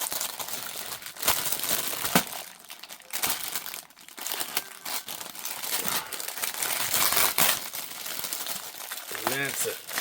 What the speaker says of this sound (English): I hate these plastic bags.